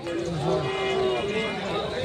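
Cattle mooing at a weekly livestock fair near K G Temple, with long, drawn-out lowing calls rising over a steady crowd murmur; people talk faintly in the background.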